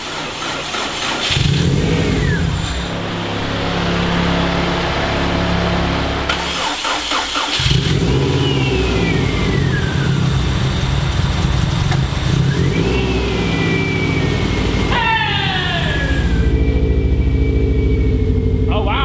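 A built Subaru EJ205 in a WRX cranks, fires and settles into a loud, close idle with a rumbling, slightly uneven burble and a couple of brief revs, running steadily for the rest of the stretch.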